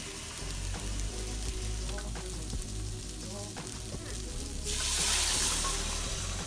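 Water poured into a pan of frying onions and bell peppers, a steady sizzle with stirring clicks that bursts into louder hissing near the end.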